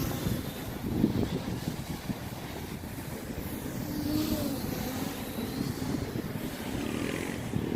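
An MJX Bugs 8 quadcopter drone flies fast forward into a turn, giving a steady buzzing whine that is fairly faint against outdoor wind noise on the microphone, rising slightly midway, with no talk.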